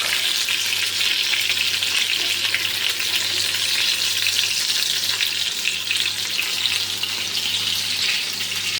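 Butter sizzles and crackles steadily in a pan, a close, continuous frying hiss with no pauses.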